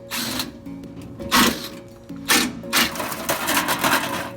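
Skid plate coming off a Ford Raptor in a garage, a power tool whirring in short bursts with loud ratcheting spins and metallic clatter close up, between pauses.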